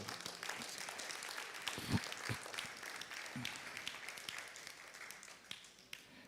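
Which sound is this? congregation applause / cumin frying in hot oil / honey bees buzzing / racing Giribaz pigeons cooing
congregation applause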